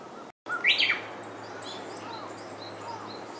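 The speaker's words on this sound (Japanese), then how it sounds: "ウグイスが鳴いてますんで" A Japanese bush warbler gives one clear song phrase from a moderate distance among cherry blossoms, over a soft outdoor background hum.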